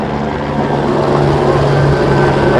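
A helicopter at Los Angeles Fleet Week near AH-1Z attack helicopters gives off a loud, steady rotor and turbine roar with a faint low hum, continuous and unbroken, with no talk.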